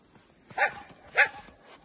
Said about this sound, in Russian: собаки немного мешают.